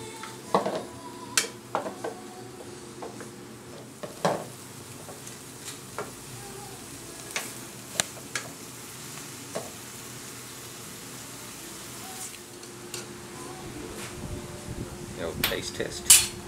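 Cabbage and capsicum stir-fried in a pan with sesame oil give a steady, close sizzle, broken by scattered sharp clanks and scrapes of a utensil against the pan throughout.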